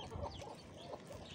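Chicks being fed soft bread give faint, soft clucking and chirping calls in quick, scattered bursts.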